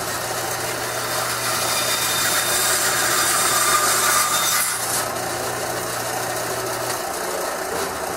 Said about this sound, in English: Now, that's not a whole lot of material to remove, so the bandsaw does it rather quickly.